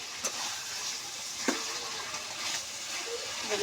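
Beef and sweet pumpkin sizzle as they are sautéed in oil in a pan, a soft, steady frying hiss with a few faint clicks and stirs, fairly quiet and close, with no talking.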